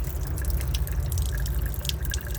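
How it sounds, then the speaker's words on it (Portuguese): Tap water running steadily from a faucet while a cat drinks from the stream, a continuous close splashing hiss with small drips and no voices. "Bebe água na torneira."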